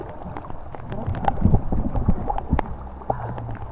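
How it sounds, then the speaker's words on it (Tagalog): Heavy rain pours down at an outdoor swimming spot on the Lobo, Batangas loop, a dense steady wash with scattered splashes and brief shouts from people nearby. "Lakas ng ulan."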